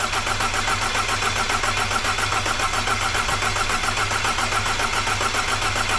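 A rebuilt Audi 1.8 TFSI engine cranks and runs in a steady, rapid pulsing drone, loud and close, without any talking.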